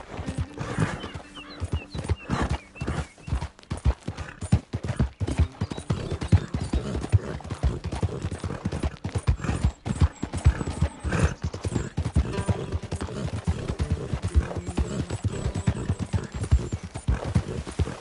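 Rapid, steady clip-clop of horse hooves in Red Dead Redemption 2 throughout, loud and close, with occasional mechanical clatter in the background.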